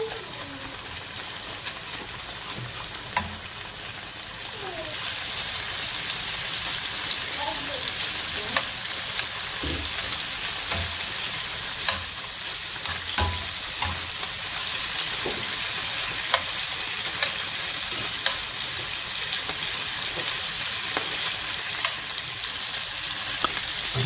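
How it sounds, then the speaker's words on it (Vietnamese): Shrimp sizzle and fry in a pan for pad thai, a steady crackling hiss with occasional scrape and stir clicks throughout, close and continuous with no talk. "Bây giờ mình bắt dầu mình sẽ chiên tôm."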